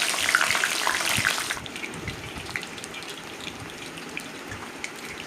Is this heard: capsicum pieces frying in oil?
yes